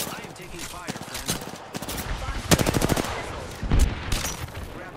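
Automatic gunfire from Apex Legends rattles in rapid bursts, loudest and densest midway through, with shorter volleys before and after in a busy, close-up firefight.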